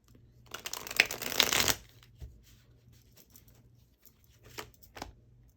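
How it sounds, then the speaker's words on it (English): Tarot cards being shuffled by hand, a dense riffling burst in the first couple of seconds followed by softer, sparse card flicks and taps, recorded close and fairly quiet over faint background hum. "Hopefully my shuffling isn't too loud."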